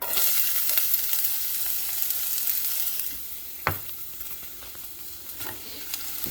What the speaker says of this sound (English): we're going to put the onion in the pan